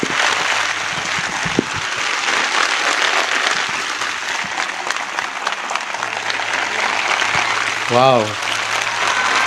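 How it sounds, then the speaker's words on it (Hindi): A church audience claps for Jesus, a dense, sustained round of applause filling the hall, with a voice exclaiming briefly near the end. "आइए यीशु के लिए एक अच्छी खूबसूरत ताली बजाइए।"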